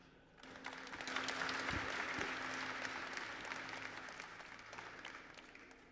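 Audience ovation at a Japan Expo conference for the Bioman guests: sustained applause from a large crowd, swelling in the first second and holding steady throughout, with no voices on top.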